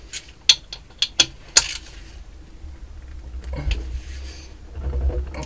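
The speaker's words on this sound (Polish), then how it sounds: "Odkręcimy tą śrubę." A wrench ratchets against a bolt on a Barton Dragon 4T 139FMB/152FMH 110cc motorcycle engine, giving several sharp metallic clicks early on, then a quieter stretch of scraping and handling noise close by.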